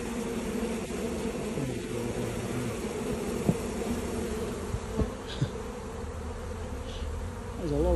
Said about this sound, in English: There's a lot of bees. So many.